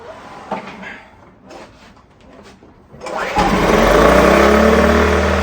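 A sailboat's small generator engine cranks over a few times after starting fluid is sprayed into the airbox, then fires and settles into a loud, steady running drone close up.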